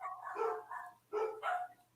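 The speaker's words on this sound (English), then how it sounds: "That's actually one dog. It's a little bloody annoying dashhound." A small dachshund barks in short yappy bursts, several quick barks in a row at moderate distance, heard alone without talk.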